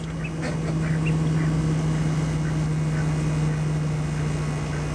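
Ducklings make small, scattered quacking peeps over a steady droning hum, faint and intermittent with no talk.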